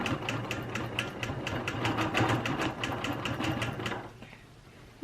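A Q16 sit-down quilting machine sews the final quilting on a quilt, running steadily with a rapid, even stitching pulse for about four seconds before stopping, close and alone without speech.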